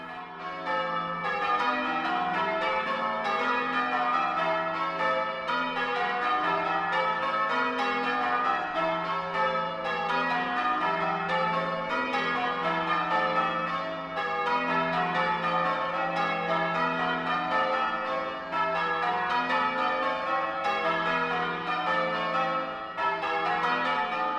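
Church bells of St Mary's ringing a full peal in the Yorkshire Surprise Major method on eight bells, a continuous dense cascade of overlapping bell strikes in steady rhythm throughout, moderately loud with no voices.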